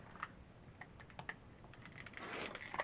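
Fabric being cut along a ruler for an Ohio Star quilt block, with a series of light clicks and scrapes, close and fairly quiet, ending in a denser scraping pass.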